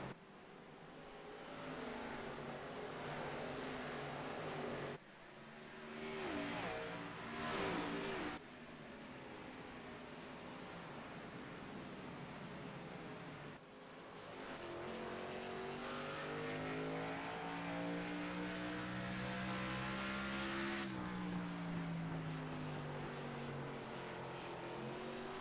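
Xfinity Series stock cars at Richmond in a sim racing game drone continuously at race speed, engine pitches rising and falling through the turns, quiet and steady with no talk.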